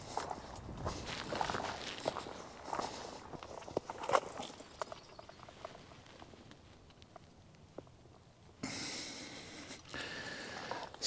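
A small moose walks through Newfoundland woods, its steady footfalls crunching and rustling close by, broken by a few short snorts and breaths, with a brief louder rush of noise near the end.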